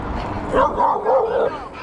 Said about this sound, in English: That's a terrible dog to have out and about.